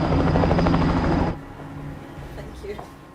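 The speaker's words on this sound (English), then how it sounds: "May 13th, a helicopter finally dispatched to Mangwalu." A helicopter's rotor gives a loud, rapid chopping thud for about a second, then cuts off and leaves a quieter background.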